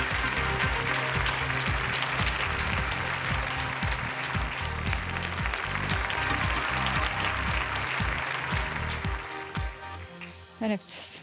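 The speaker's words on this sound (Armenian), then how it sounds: "եկեք ուղղակի բարձր ծափարություններով ներս հրավիրենք, խնդրեմ" An audience at a startup idea pitch event claps loudly and continuously to welcome a team's presenter, the dense applause tapering off in the final second.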